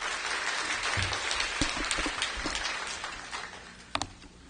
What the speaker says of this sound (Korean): 우리 박수로 한번 단장하겠습니다.